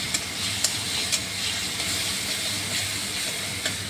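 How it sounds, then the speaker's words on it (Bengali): Ginger, cumin and chilli paste sizzles steadily in a frying pan with fried potatoes, giving a continuous close hiss with a few faint pops and no talking. "এবার আমি আদা জিরে লঙ্কা যে পেস্টটা ছিল দিয়ে দিলাম দিয়ে ভালো করে একটু কষিয়ে নেবো"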